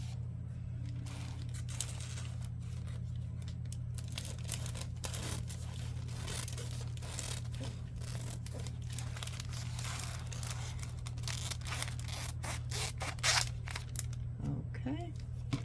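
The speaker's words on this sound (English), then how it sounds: "let me cut this plastic" Scissors snip and tear through plastic in irregular bursts of crinkly cuts over a steady low hum, with a voice speaking faintly.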